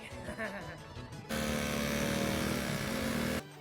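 A small 50cc Yugoslavian moped engine buzzes loudly and steadily while riding, starting abruptly after a moment of quieter sound and cutting off near the end.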